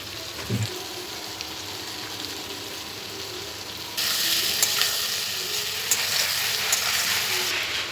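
Potato pieces frying in oil with onions, salt and turmeric, likely for a katla fish curry: a close sizzle that jumps to a much louder, denser hiss and crackle halfway through and stays strong, with no voices.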